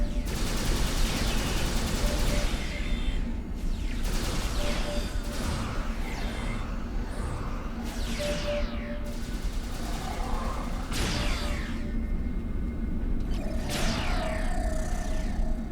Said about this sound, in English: He is shooting dual beams.